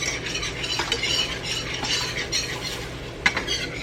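Flour cooking in a pan for gravy is stirred steadily, a continuous scraping hiss of a utensil over metal with a light sizzle underneath and one sharp clink near the end.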